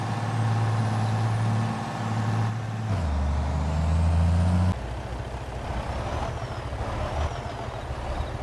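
A grain truck on a rainy sunflower harvest drives back to the yard, its engine droning steadily with shifts in pitch as it changes gear, loud and close throughout.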